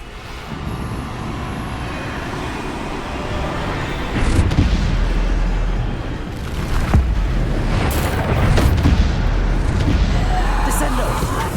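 Bombarda spell explosions in the video game Hogwarts Legacy: deep booming blasts and rumbling debris rise over a continuous game soundscape, with spoken spell incantations running through.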